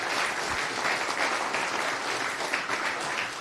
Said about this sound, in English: a warm round of applause to Windel and Shin.